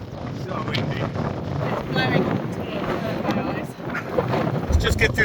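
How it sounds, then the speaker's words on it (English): Strong wind on open heathland buffets the microphone in rough, shifting gusts, with a voice briefly audible beneath the roar. "It's so windy, so windy."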